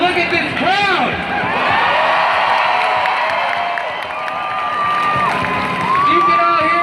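A large outdoor protest crowd cheers and whoops continuously, dense and loud, with shouting voices rising above the roar and a few whistles cutting through.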